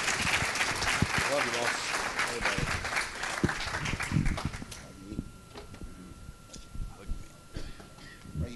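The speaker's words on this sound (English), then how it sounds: "Would you give the usheries a big hand clap," A church congregation at a Sunday morning service bursts into loud applause for the ushers, clapping densely for several seconds before thinning out into scattered claps and murmuring, with a voice speaking over the fading end.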